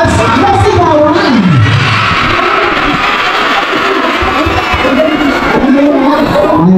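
A school Nutrition Month costume contest draws a loud, sustained crowd roar of cheering, yelling and applause. It fills the whole stretch with energy and no pauses, and a few voices rise above the din.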